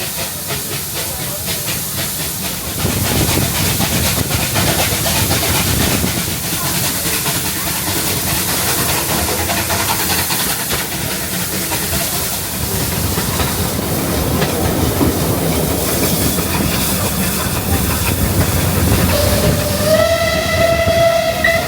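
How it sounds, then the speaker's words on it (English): A steam train on the Watercress Line heard from aboard, a continuous loud rumble and hiss of running carriages with rhythmic chuffing, ending with a clear whistle blast near the close. "I hope you can hear the chuffing of the steam train"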